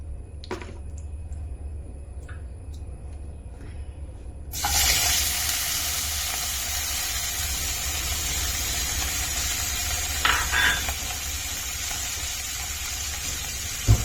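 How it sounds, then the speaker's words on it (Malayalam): Garlic, green chilli and asafoetida fry in coconut oil, a steady broadband sizzle that jumps louder partway through and holds, with a brief clatter near the end and no talking. "വെളുത്തുള്ളിയും പച്ചമുളകും പിന്നെ കായും അതൊന്ന് ഫ്രൈ ചെയ്യാം."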